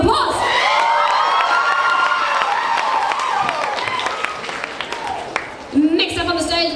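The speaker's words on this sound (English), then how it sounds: "Big round of applause!" A crowd at a cosplay competition cheers, whoops and claps, with high shouting voices riding over the applause; the noise eases midway and a short burst of voices returns near the end.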